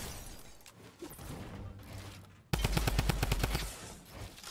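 A Fortnite fight against a player, with quieter game noise first, then a loud close burst of rapid repeated gunshots in an even rhythm for about a second and a half.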